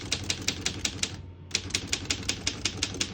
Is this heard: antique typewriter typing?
yes